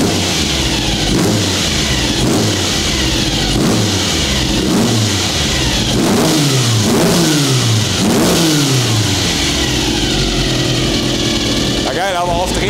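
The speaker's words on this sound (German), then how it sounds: "Kannst du mal ein bisschen Gas geben?" A Porsche 356 Speedster replica engine revs repeatedly, its pitch rising and falling in several loud pulls close by, under a constant roar with voices talking.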